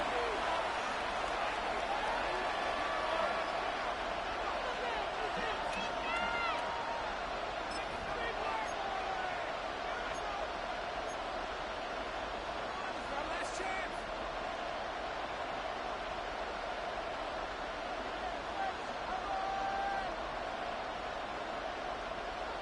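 Continuous crowd roar from a stadium in a Browns at Bills American football video game, a dense, even wash of noise sustained throughout with faint voices mixed in.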